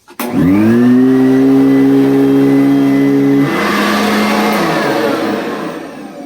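A powerful vacuum cleaner on a low pile area rug starts with a sharp rise into a loud, steady motor whine. Partway through, the pitch drops and the sound turns to a rougher rushing as the machine moves, then it slowly fades.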